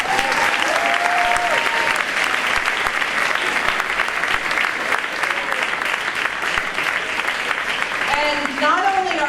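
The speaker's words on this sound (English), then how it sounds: "give a real round of applause to our senior athletes in" Loud sustained clapping from a crowd at a high school varsity sports awards ceremony, honoring senior athletes, with whoops and cheering voices rising near the end.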